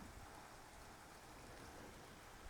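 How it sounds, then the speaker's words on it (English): Rain falls outside during a real rainstorm, a soft, even hiss of steady downpour, faint and distant throughout with no voices over it. "Maybe the rain sounds hypnotize us and we fall off to sleep."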